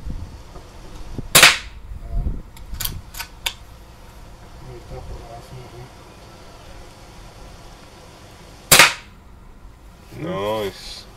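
Air guns fire sharp cracks at a range, two loud isolated shots with pellets clanging onto a metal target, the impacts louder than the guns, amid quieter clicks and handling noise, with a voice briefly at the end.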